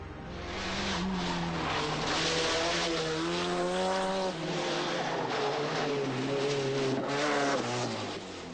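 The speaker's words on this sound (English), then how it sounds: "Ford could use all the power of the two-wheel drive Cosworths on the tarmac stages of the Mediterranean island." Two-wheel-drive Ford Sierra Cosworth rally cars race on tarmac stages on a Mediterranean island; one loud, close engine revs hard through rising and falling gear changes, with tire squeal and no talk.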